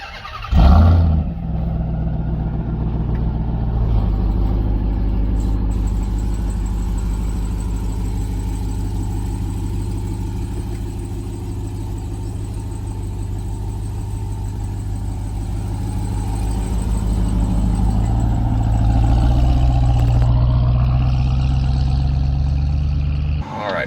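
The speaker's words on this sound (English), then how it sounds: "First time pulling out in the TRX. Oh, the supercharger." A 2021 Ram TRX pickup's supercharged engine pulls away on paved streets, a deep, loud rumble that swells as it accelerates, steady and close for the whole stretch.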